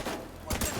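Gunfire in The Division 2 played on Google Stadia: two quick, loud bursts close together, following a quieter stretch of rumbling background noise.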